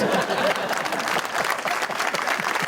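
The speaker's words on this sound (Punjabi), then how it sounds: "ਤਾਲੀਆਂ ਖੁੱਲ ਕੇ ਵਜਾਓ" A studio audience at a political talk show claps steadily and fairly loudly for a few seconds, a dense, even patter with no voices over it.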